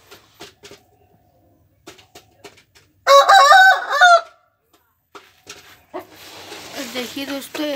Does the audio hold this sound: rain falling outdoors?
no